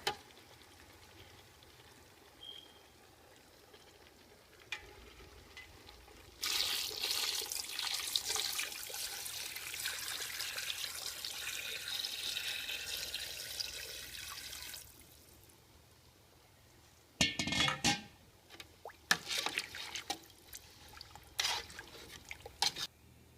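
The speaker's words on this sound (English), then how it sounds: "Now I am going to add in some water." Water pours into a pot of pork organs being braised, Cambodian village style, giving a steady rushing gush for several seconds, followed by quieter splashes and clatter.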